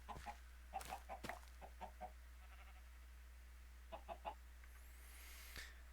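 Chickens in Minecraft cluck in short, faint bursts, a few clustered clucks early on and another small group later, over a steady low hum.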